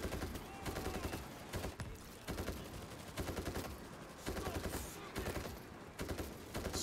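Zombie shooter video game gunfire: repeated rapid bursts of automatic shots in a steady rhythm, loud and close, with short gaps between volleys.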